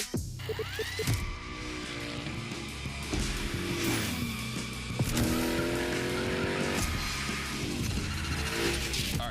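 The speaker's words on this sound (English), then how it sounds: "Let's see how you handled your first slides with the Hoonicorn." The Hoonicorn, a heavily modified Ford Mustang, slides through gymkhana runs in The Crew Motorfest, its engine revving high and falling as the tires squeal and skid in long, loud, continuous waves.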